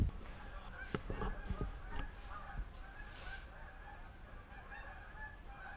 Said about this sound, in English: Fucking geese.